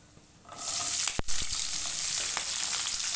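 Chopped onion is tipped into hot oil in a pan while cooking a paneer vegetable kurma. A loud, steady sizzle bursts in after a short quiet start, with a brief clunk partway through, and no voices.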